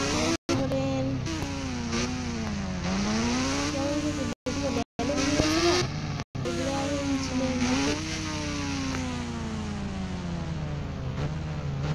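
Motorbike engine in the Indian Bike Driving 3D video game, revving loudly and steadily for the whole stretch, its pitch rising and falling through repeated throttle sweeps, with a few short cutouts.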